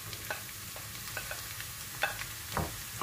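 Garlic sizzles in oil with onions, crackling steadily with scattered pops and light stirring scrapes, close by, with no talking.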